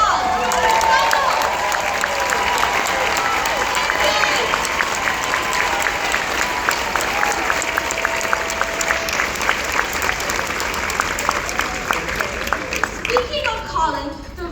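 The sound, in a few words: big round of applause for the speaker's dad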